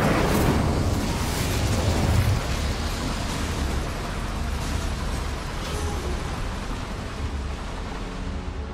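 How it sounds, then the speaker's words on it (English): A roaring burst of fire from the Incendio spell erupts loudly in the Hogwarts Legacy video game, then settles into a steady crackling rush of flames that slowly fades over several seconds, with no talk. "Incendio should be enough to light these flames."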